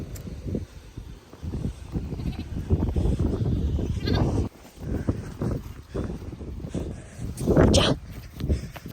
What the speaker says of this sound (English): I'll feed these ewes, drop this lamb down near them.